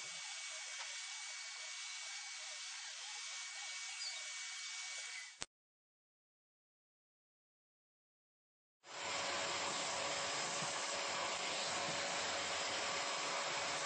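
A Dyson DC28 Airmuscle Animal vacuum cleaner runs with a steady high airy whine, cuts out abruptly for a few seconds, then starts again at full loud suction.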